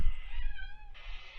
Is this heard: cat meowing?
yes